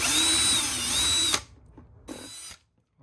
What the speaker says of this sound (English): Let's drill through this.